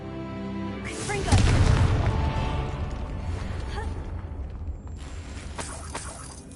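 Confringo blasting spells explode in the video game Hogwarts Legacy. One heavy boom is followed by a long rumbling roar that fades slowly, and a fresh burst of crackling blast noise arrives near the end.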